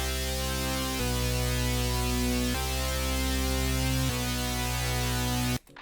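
A basic synth melody alternates between two sustained notes in a beat, loud and continuous, each note held about a second and a half before switching, then cutting off near the end.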